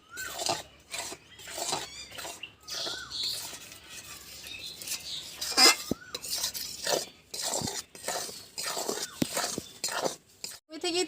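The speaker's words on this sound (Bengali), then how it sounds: "এবার এটাকে সুন্দর করে নেড়ে নিতে হবে।" Chhatu mixture being stirred in a pan, with repeated metallic scrapes and clinks of a spoon against the pan in an irregular rhythm, close by, under someone talking intermittently.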